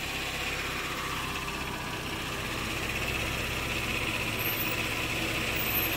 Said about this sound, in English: The air conditioner is on right now, so I mean, that's why it's making that sound.